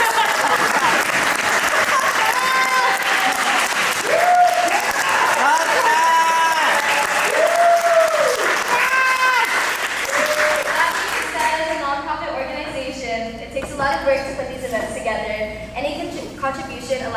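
A creative summit audience claps steadily and loudly throughout, a dense wash of applause with some voices rising over it before it begins to thin toward the end.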